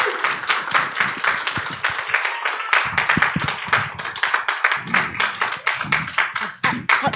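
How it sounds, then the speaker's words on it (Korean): Dense, steady applause from an audience at a school admissions information session, welcoming guests to the stage, loud and continuous for several seconds without talk. "박수로 네, 맞이해 주셨으면 좋겠습니다."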